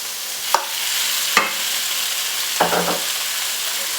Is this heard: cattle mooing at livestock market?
no